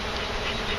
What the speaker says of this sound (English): That one produced some really mad bees